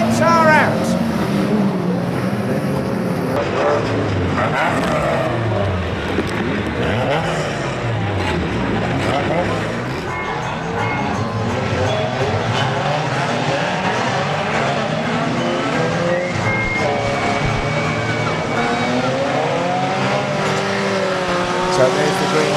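Cars racing in a demolition derby at Arena Essex: continuous loud engine roar with revving and shifting pitches from multiple cars, heard under steady commentary.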